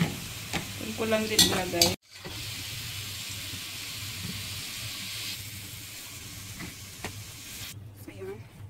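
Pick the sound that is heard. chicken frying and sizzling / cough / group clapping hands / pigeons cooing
chicken frying and sizzling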